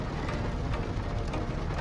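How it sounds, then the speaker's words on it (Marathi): Steady rain falls close by at a resort in Karjat, a dense even hiss with faint patters, no voices. "किती बघा पाऊसच पाऊस सुरू झालाय"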